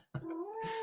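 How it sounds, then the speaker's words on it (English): A cat gives a single short meow indoors, a brief faint rising call. "Oh, there's the cat again."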